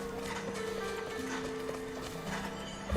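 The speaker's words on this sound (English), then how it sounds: "Let's get on our horse." Horse hooves clopping in a video game during a live stream, a steady clip-clop rhythm running the whole time under game music and ambience.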